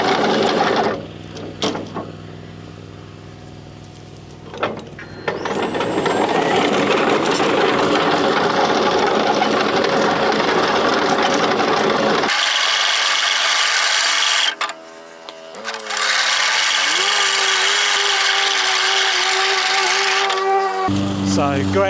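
A battery-powered Ego lawn machine with the throttle kept low runs steadily and loud through most of the stretch, with a brief dip partway, while people talk near it.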